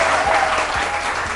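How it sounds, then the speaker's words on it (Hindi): Studio audience applause fills the room as a dense, steady patter of clapping hands, moderately loud and continuous for a brief stretch. "तालियां होनी चाहिए ना इसके लिए।"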